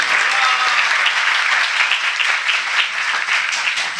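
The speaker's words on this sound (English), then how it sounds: "So let us give an applause for the team." An audience gives a team a round of applause: dense, continuous, fairly loud clapping from many hands, steady throughout without voices rising above it.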